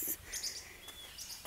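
Birds chirp and sing outdoors in a green valley on a cloudy day, several faint high calls repeating in quick succession over quiet background noise.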